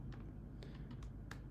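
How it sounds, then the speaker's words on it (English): Computer keyboard keys pressed repeatedly while holding Control-Z, a few soft clicks spaced irregularly over steady background hiss, close and quiet. "I'm going to hold down my Control-Z"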